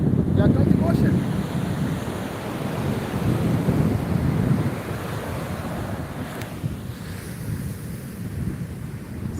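Atlantic Ocean surf at Swakopmund, Namibia, rolls in as a broad, continuous wash of waves with heavy wind buffeting the microphone throughout, loud at first and easing slightly later.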